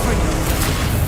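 Explosive Confringo spell blast in Hogwarts Legacy, a loud dense boom filling the moment, over steady game noise.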